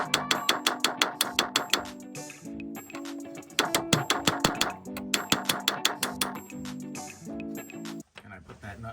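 Hammer blows on the axle nut and tie rod of an F150 4x4 front axle during removal, fast runs of sharp metallic strikes in bursts with short pauses between, close and loud.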